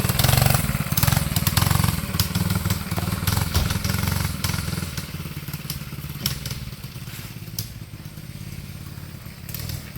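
A Coleman CK100-S go-kart engine runs steadily, a loud buzzing drone with crackle that eases slightly as the kart moves off along a driveway.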